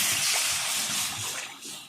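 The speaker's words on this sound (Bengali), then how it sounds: "জল," Water poured into a cooking pan of mango chutney, a continuous gushing, splashing pour close by for about two seconds with no talk over it.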